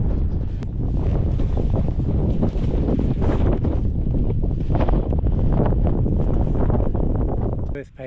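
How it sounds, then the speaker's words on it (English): Wind blows steadily across an exposed hillside at Stanage Edge in the Peak District, buffeting the microphone with a loud, continuous roar that holds for several seconds before dropping away at the end. "The wind just here is gentle, but it's very different when we get over the top."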